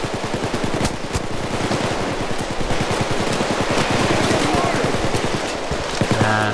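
Sustained rapid automatic gunfire from PayDay 2, loud and continuous rattling bursts filling the whole stretch, with no break in the shooting.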